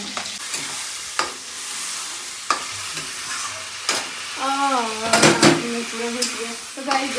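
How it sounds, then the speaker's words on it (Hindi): Masala spices frying in a pan for a home-cooked potato dish, a steady sizzle with stirring scrapes and clinks, with a voice talking over it in the second half. "यहाँ पे भी इसका मसाला भूज रहा है"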